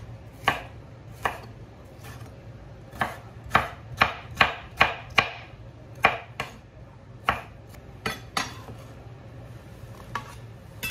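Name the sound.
chopping radish and tomatoes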